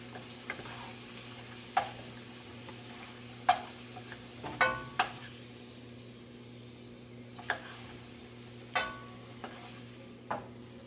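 Potatoes finishing frying in oil in a pan, with a faint, low sizzle under a steady hum. Sparse, soft scrapes and clicks of a utensil stirring or lifting the pieces break through every second or two.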